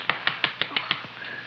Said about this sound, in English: Clap him on the back.